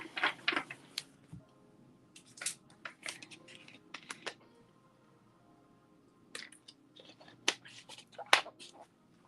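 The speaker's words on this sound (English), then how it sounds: "I'm just shuffling the cards." Tarot cards shuffled by hand, giving soft irregular bursts of crisp papery flicks and snaps at close range, quiet between clusters, with faint low voice murmur beneath.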